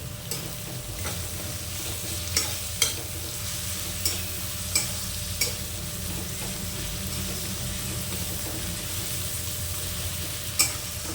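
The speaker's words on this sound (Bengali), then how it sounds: "পেঁয়াজটা হালকা করে নেড়ে নিয়ে এর মধ্যে আমরা দিয়ে দেব চেরা কাঁচা লঙ্কা দুটি।" Onion and slit green chillies fry and are stirred in a pan for a rohu fish curry, making a steady close sizzle broken by a few sharp spatula taps.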